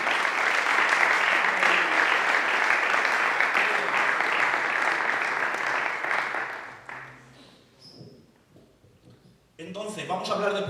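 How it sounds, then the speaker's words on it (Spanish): A congregation at a Bible-school session gives a loud round of applause that holds strongly for about six seconds, fades out, and then gives way to someone speaking. "Dan un fuerte aplauso a nuestro Dios."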